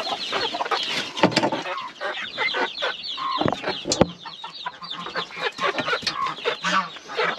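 Seven young pullets cluck and peep busily in a hobby coop in Taşköprü, Kastamonu, close by with many overlapping short calls and rustling, and only faint speech.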